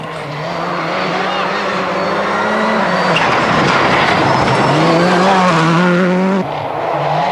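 Subaru rally car on a special stage at the 2003 Rally of Great Britain, engine revving loudly through rising and falling gear changes, with a commentator's voice over it.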